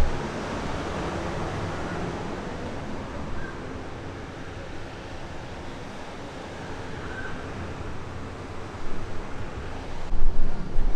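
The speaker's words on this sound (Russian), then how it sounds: "Тут дуют сильные ветра." Strong seaside wind at a hotel in Kusadasi, Turkey, roaring and buffeting the microphone, a continuous broad rush that grows gustier near the end, with no talking.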